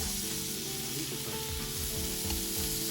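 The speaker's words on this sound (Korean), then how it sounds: "솥뚜껑 삼겹살" Steady, close sizzling of pork belly frying on a cast-iron pot lid over a backyard wood fire in a Solo Stove Ranger, crackling continuously with small bursts of spitting fat and no voices.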